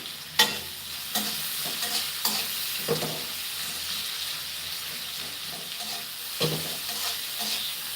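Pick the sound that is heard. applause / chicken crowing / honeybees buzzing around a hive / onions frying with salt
onions frying with salt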